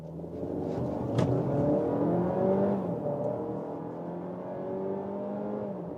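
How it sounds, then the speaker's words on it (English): A 1.5 TSI pure petrol engine in a compact SUV accelerating, a smooth rising whir with tones climbing in pitch and a brief gear-change dip, steady and moderately loud from inside the car. "Have the pure petrol engine sound."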